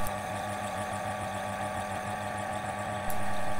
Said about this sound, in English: it's just a matter of moving the cylinder around while the lathe slowly turns the mandrel